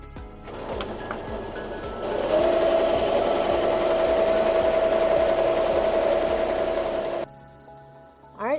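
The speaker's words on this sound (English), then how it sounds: "it's going to run the tack down stitches, and then it will finish with the satin stitches on the edge" A sewing machine runs tack-down stitches around a wall quilt, a steady mechanical whir that holds for several seconds, grows louder partway through, and then stops abruptly.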